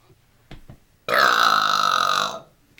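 One loud, drawn-out burp lasts over a second, close and alone, after a couple of faint soft sounds.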